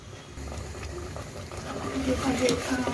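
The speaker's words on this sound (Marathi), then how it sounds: "आता सगळे मसाले वगैरे भाजले पाहिजेत, चांगलं तेल सुटेपर्यंत असं परतून घ्यायचं आहे आपल्याला." Spices sizzle and fry in hot oil in a pan over a high gas flame while misal is cooked, a steady close hiss that grows slightly louder toward the end.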